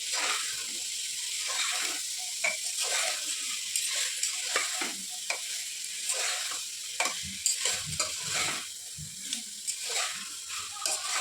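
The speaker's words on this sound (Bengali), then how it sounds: "মটর আর আলু মানে আলু আর সিদ্ধ করা ছিল দিয়ে দিচ্ছি। ভালোভাবে কষিয়ে নিচ্ছি।" Boiled potatoes and peas are stir-fried in a pan with spices, a steady sizzle broken by repeated scraping and stirring strokes of a spoon, close and moderately loud, with no talking.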